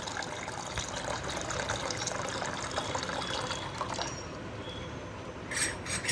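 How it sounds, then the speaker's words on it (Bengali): About one litre of water pours into a container for a lemon ginger drink, a continuous rushing splash that eases toward the end, followed by a few clinks. "এখানে আমি প্রায় 1 লিটার মতো জল নেব"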